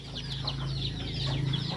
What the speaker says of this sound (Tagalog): Tara, magpatuka muna tayo ng mga manok.